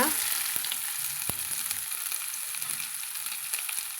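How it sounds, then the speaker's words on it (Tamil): Dried red chillies and small shallots frying in hot oil for Pallipalayam chicken, a steady crackling sizzle with occasional sharp pops and a few clicks of stirring, close and continuous. "வரமிளகாம் பொறிஞ்சு வந்ததும் இந்த சின்ன வெங்காயத்தை சேர்த்துக்கலாங்க"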